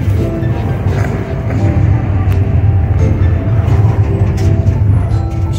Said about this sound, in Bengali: এখন আমরা আছি অন দ্য ওয়ে ট্রেনে।